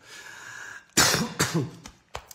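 A few sharp coughs close by, one strong cough followed by two or three smaller ones, then a short final cough after a pause, with a faint steady hum before.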